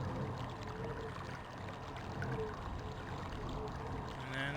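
Water in a video game sound-code puzzle: a murky, churning wash of flowing, lapping water, fairly faint and continuous throughout, with no talk over it.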